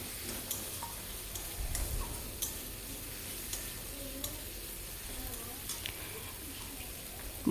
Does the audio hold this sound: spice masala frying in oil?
yes